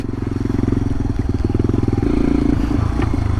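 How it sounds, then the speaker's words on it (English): A small agricultural motorcycle being ridden, its engine a loud, close, steady pulsing drone with a slight rise in pitch partway through. "this little ag bike is really awesome to ride."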